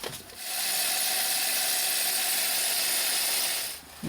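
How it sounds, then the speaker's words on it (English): Ratchet wrench tightening a bolt on a cave ladder underground, a rapid continuous clicking run lasting several seconds, close and fairly loud, with no talk. "The bolt is tightened up and the main one is tightened up."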